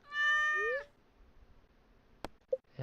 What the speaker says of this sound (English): We will pet the cat